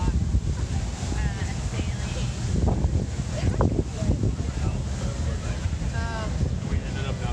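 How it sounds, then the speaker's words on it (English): Strong wind buffets the microphone in a constant low roar outdoors on a New York City waterfront, with a person talking intermittently underneath the gusts. "Wish it wasn't so windy."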